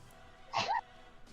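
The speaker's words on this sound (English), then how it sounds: "I had another sneeze, and then I decided not to." A single short sneeze bursts out near the middle, quiet and close, against a faint background hush.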